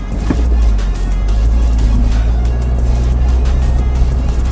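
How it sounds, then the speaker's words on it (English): A 2018 Hyundai Santro Sportz AMT automatic climbs a very steep hill in first gear at about 2000 RPM with the air conditioning on, a loud, steady engine drone heard from inside the car. "we are going to see how the Santro performs over this hill with air condition on"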